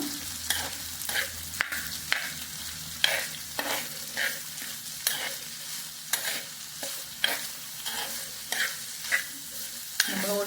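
Bitter gourd thoran is stirred as it fries in a pan, with a steady sizzle under repeated scraping strokes of a spoon that come roughly every second, close up and without speech.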